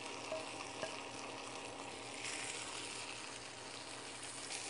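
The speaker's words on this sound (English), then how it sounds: "Next, I'm going to flip the chicken breasts. And add some dried basil and some sliced mushrooms." Chicken breasts and sliced mushrooms fry on a Fagor portable induction cooktop, giving a soft, continuous sizzle with occasional light stirring clinks, faint and close, without speech.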